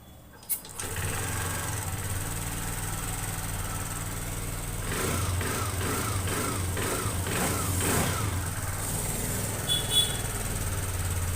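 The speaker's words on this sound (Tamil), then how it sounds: "ஸோ வண்டியை இப்போ ஸ்டார்ட் பண்ணி காட்டுறேன்" A TVS Jupiter 125 BS6 scooter is started with a sharp click, then idles with a steady, fairly loud engine hum, and the throttle is blipped a few times in rhythmic bursts around the middle.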